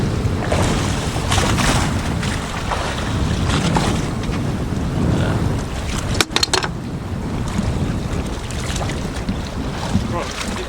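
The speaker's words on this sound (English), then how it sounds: "Look at that wake he's throwing. Look at that. Look at those swells." Boat wake and heavy ocean swells churned up by a passing hurricane, off New York during a fishing trip, heard as a continuous loud wash of water and wind buffeting the microphone, with a brief knock partway through.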